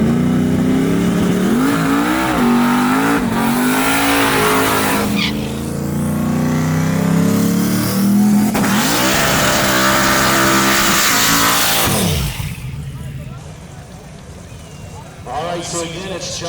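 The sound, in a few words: 1995 Mustang racing down a drag strip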